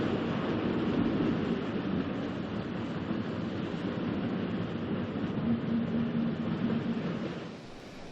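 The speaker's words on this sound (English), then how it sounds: "An excursion train, headed by a Hymek Type 3 diesel locomotive, arrives at East Budleigh to pick up returning passengers." An excursion train headed by a Hymek Type 3 diesel locomotive arrives at East Budleigh station, a continuous broad rumble and rail roar that holds steady and eases slightly at the end, with no voices.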